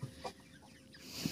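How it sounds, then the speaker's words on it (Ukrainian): A small bantam rooster in a backyard coop at evening, with chickens settling to sleep, gives a couple of brief, soft clucks against a quiet background. "Півничок ось також є"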